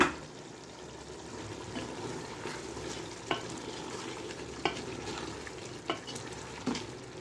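Spice masala for chicken tehari sizzles and fries steadily in a pan, with repeated scraping stirs cutting through the continuous crackle at close range; no voices.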